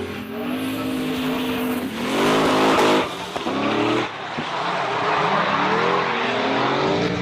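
A Nissan S14 drift car fitted with an 800-horsepower 2JZ engine, revving hard with rising and falling engine pitch as it accelerates and drifts, close and loud, with tire squeal mixed in.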